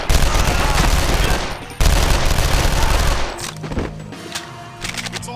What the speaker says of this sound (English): What's all that shooting?